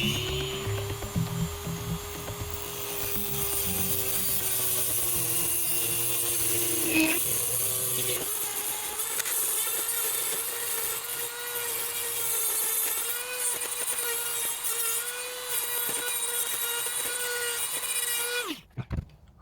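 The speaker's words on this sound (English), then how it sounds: "Let's keep cutting the other screws in the meantime." A power tool cutting through screws on an electric vehicle battery case, a sustained high-pitched whine with a steady grinding hum that shifts pitch partway through and cuts off abruptly near the end.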